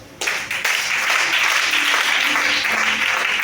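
A congregation at a Sunday church service breaks into applause. The sound starts abruptly and quickly becomes dense, sustained clapping that fills the room, with a few faint voices beneath it.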